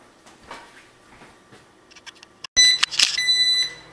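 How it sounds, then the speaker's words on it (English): Breville Smart Oven Air sounding its preheat-complete alert in a home kitchen: a loud, bright electronic beep tone bursts in after quiet rustling and lingers for over a second. "The Breville's preheated."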